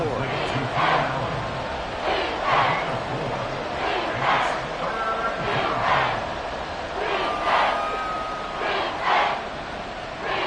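A stadium crowd in a Madden football video game cheers and roars in swelling waves ahead of a big third down, steady and fairly distant beneath a commentator's voice.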